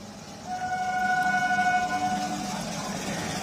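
At a railway level crossing in West Bengal, a train gives a sustained horn blast over a low rumble, close and fairly loud, then the horn stops and the rumble continues.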